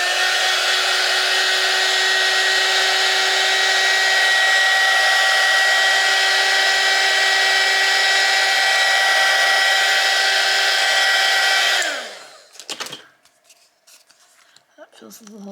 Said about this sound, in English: So I'm going to take out my heat gun, and give it a zap.